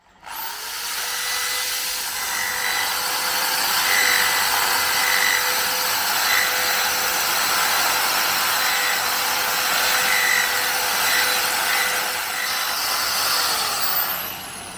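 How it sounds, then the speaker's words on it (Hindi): A power drill whines steadily for about fourteen seconds while enlarging the rim of a bar end mirror on a Royal Enfield Classic 350, a loud, continuous grinding hum with only slight pitch shifts. "इसको हम ड्रिल करके थोड़ा सा बड़ा करेंगे"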